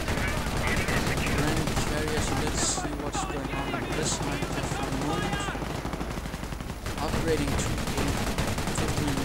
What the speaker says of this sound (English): being heavily mowed down by the Vickers machine gun, which is firing an armor-piercing burst round